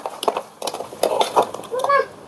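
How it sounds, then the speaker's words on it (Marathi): Vegetables with oil and spices are sautéed in a pan on a small stove, heard as close, repeated scraping and clinking of a utensil against the pan over a faint sizzle. "आता आपण मस्तपैकी परतून घेऊया"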